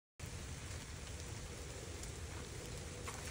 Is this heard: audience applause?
no